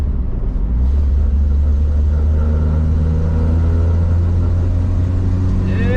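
A 1958 Rambler Cross Country Wagon on a test drive, its engine giving a steady low rumble from inside the car, with no talk.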